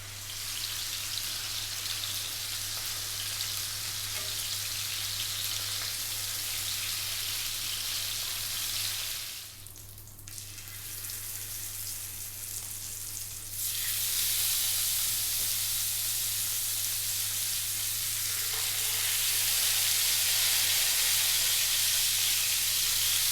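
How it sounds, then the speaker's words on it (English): Pieces of carp fish sear in a hot pan for a Bengali river-style curry, giving a steady, bright sizzling hiss that dips quieter for a few seconds midway, then returns fuller and louder to the end. "Now don't worry if you don't think your fish is cooked all the way through. What we're doing is just sealing it"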